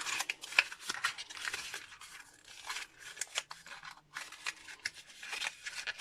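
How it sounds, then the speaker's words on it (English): Card paper is scrunched up by hand into a ball, giving close, repeated crinkling and crackling bursts in an uneven rhythm, with no speech. "this one here, I'm just going to scrunch all up."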